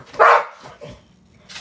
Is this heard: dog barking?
yes